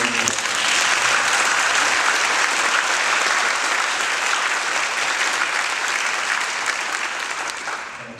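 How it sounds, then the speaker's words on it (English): Town hall audience at Atlantic High School gives a big round of applause for a young strings musician from Plumosa Elementary, a dense sustained wash of clapping that holds loud throughout and thins slightly at the end. "please join me with a big round of applause for the young strings musician from Plumosa Elementary who greeted you"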